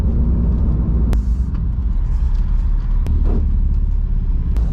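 Rebuilt Porsche 911 Turbo engine droning low and loud from inside the car while driving, a continuous rumble with faint whistling and a few sharp knocks over road noise.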